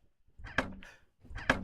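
Car rear seats fold down with two muffled thuds about a second apart, each with a brief rattling clunk, close by and fairly quiet.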